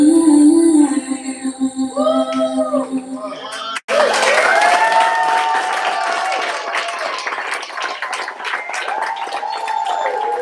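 An audience applauds and cheers after a student performance, starting about four seconds in as dense clapping and cheering that carries on loudly to the end, with children shouting among the crowd.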